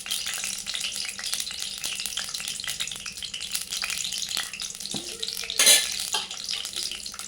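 Whole spices such as cinnamon, peppercorns, cloves, cumin, cardamom and shahi jeera frying in oil give a steady close sizzle, with a brief clatter of them dropping into the pan near the end.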